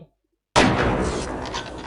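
A gun fires once in the shooter game Half-Life: Opposing Force, a sudden loud blast that decays slowly with a rumbling tail after a short silence.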